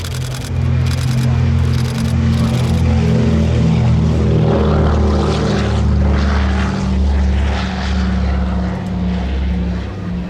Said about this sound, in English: Here we go, on the takeoff roll.